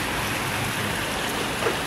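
Heavy rain rushes down a street in a steady, dense hiss of falling water, close and continuous with no voices.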